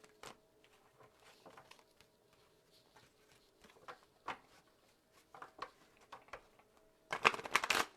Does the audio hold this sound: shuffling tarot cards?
yes